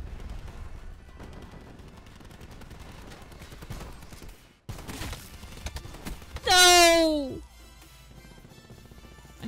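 Shotgun gunfire in a video game, a few loud blasts within busy game combat noise and voices, followed by a bright, sweeping tonal sound effect.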